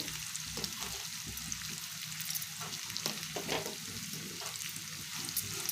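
Bitter gourd pieces with turmeric and salt fry in hot oil, a soft, continuous sizzle running close throughout, broken by repeated scraping and stirring strokes at a steady pace.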